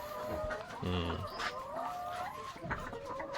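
Dekalb Brown chickens cluck close by in a short, busy burst of repeated calls over a steady farmyard background.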